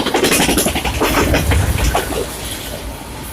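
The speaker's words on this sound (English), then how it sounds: "And he's rolling down the rails at like 60 miles per hour or something like that." A southbound Z freight train led by three locomotives, with an ACe leader, rolls past on State Street in Clearfield, Utah at about 60 mph, giving a loud, close, continuous rumble with rhythmic wheel clatter that eases slightly toward the end.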